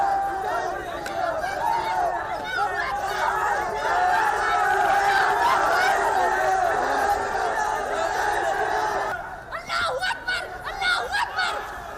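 Hundreds of students in saffron shawls on an Indian college campus chant slogans as a dense, loud crowd roar. The mass of shouting voices swells and then breaks into scattered individual yells near the end.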